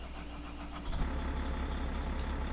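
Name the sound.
truck engine starting, Volvo slurry tanker, Farming Simulator 2013 video game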